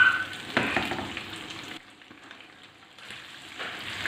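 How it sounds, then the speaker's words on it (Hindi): Lamb meat frying in hot oil for a Balochi dish, a steady close sizzle that swells and fades, easing off briefly in the middle before rising again. "अब इस ऑयल के अंदर हम इसको फ्राई करेंगे गोश्त को अच्छी तरह से।"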